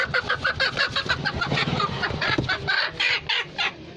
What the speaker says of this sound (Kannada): ನಾಟಿ ಕೋಳಿ ಇದೆ.